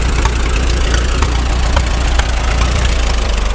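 A Caterpillar Ten tractor engine idles loud and close with a rapid, even chugging beat while it runs down its fuel with the gas shut off.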